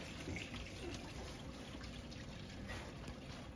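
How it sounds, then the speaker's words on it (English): Water poured through a funnel into the cooling reservoir of a Thunder Laser NOVA 35/100 laser cutter, a soft continuous trickling and splashing pour, quiet and close, with no voices. "find a funnel, pour it in."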